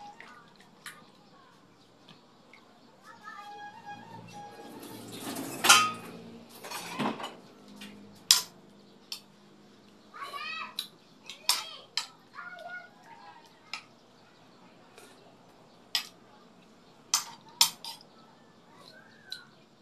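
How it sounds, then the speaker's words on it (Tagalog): A utensil stirs a soy sauce mixture, with scattered clinks and taps against the dish around a brief louder clatter, while bird calls and other kitchen sounds come and go in the background. "Tapos, siyempre haluin natin para masarap."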